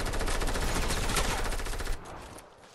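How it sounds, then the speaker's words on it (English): Sniper rifle fire in the Fortnite video game, a loud, dense burst of gunfire filling the first two seconds before cutting off sharply and fading into a quieter tail. "Oh my God, I just got sniped!"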